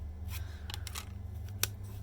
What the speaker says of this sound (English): Yep, mechanical scissors.